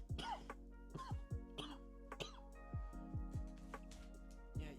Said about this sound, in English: y'all gonna hear my coughing.